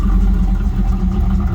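A 1984 Camaro Z28 engine runs nearby with a deep, throbbing, steady rumble, loud and continuous for a brief moment with no talking.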